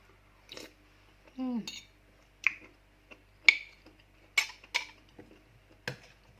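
Close crunchy bites and chewing of tom yum with pork and bee mushrooms, a handful of sharp, separate crunches spread over several seconds, with a brief voice sound near the start.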